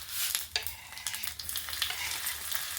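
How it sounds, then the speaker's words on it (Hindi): Chilies hit hot oil with crackling cumin seeds in a home kitchen, a close, steady sizzle and hiss with light stirring scrapes and no speech. "यहाँ जीरा हल्का चटक जाने के बाद मैं डाली हूँ इसमें मिर्च।"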